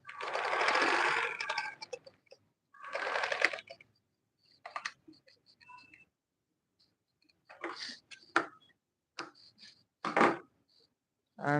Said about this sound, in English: I'm going to stitch an end where the notch is.